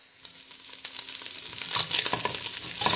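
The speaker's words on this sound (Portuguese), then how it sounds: "Já deu uma fritadinha boa agora no camarão" Shrimp fries in a pan for a Brazilian bobó de camarão, giving a steady close sizzle with crackling pops that grows slightly louder, with no talk.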